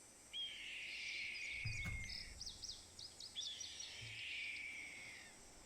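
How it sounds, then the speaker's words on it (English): A Red-tailed hawk call from Nancy Drew: Ghost Dogs of Moon Lake, a faint, raspy, drawn-out scream lasting over a second, heard twice with a short gap between, over a soft background hiss. "Red-tailed hawk."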